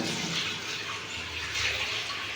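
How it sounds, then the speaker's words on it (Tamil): Water steadily poured into a new fish tank, a continuous close rushing and splashing flow with no talk over it. "புது தொட்டி வாங்கியாச்சு வாங்கிட்டு அதை தண்ணி ஊற்றுறேன்"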